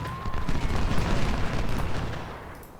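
Massed rifle volleys from infantry opening fire in the Ultimate General: Civil War strategy game, a dense rumbling barrage of overlapping booms and cracks that holds steady for a few seconds and then eases off slightly.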